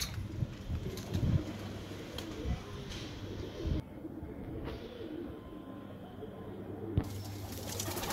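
Punjabi pigeons coo in a low, steady murmur under continuous flock noise, with occasional soft flutters and a brief faint voice in the background.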